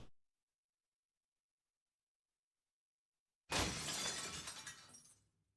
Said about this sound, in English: The sound of something made of glass hitting the floor